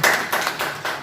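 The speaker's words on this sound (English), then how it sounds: "Clap for everybody." A class claps for everybody in an English vocabulary lesson, a brief patter of several hands clapping in quick uneven bursts, close and fairly loud.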